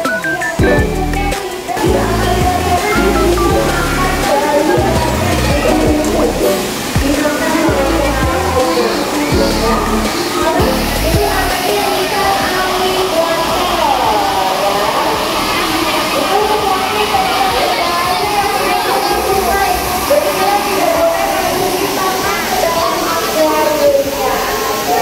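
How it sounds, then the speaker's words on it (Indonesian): Continuous rushing, splashing water at the BXSEA aquarium in Bintaro Xchange fills the scene, loud and close, with children's voices and chatter mixed in throughout. "Suara gemericik airnya ini benar-benar sangat menenangkan hati"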